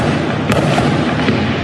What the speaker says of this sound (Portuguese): Os moradores acordaram com a troca de tiros.